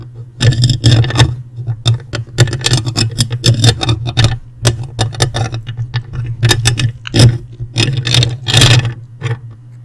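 A handmade ring scratches and taps against a surface up close in ASMR style, making dense, irregular clicks and scrapes over a steady low hum, with no talking.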